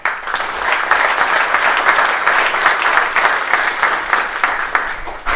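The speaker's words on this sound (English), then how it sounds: "giving a quick round of applause to Nick for setting this all up" Steady, dense applause from the audience at a tech meetup in Toronto, many hands clapping close and loud for about five seconds before tapering off.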